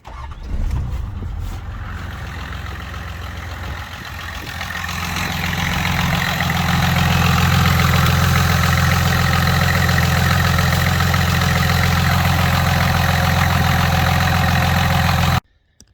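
A 1983 Chevrolet Celebrity diesel, suspected of a blown head gasket, idles close by with a steady, heavy clattering drone that swells after a few seconds, holds loud and even, then stops abruptly.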